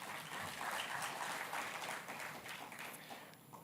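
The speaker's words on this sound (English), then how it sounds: "Please give us a warm applause." Audience applause during a keynote speech on the development of Nusantara: a crowd claps in a steady, fairly faint wash that holds for a few seconds and then starts to taper off.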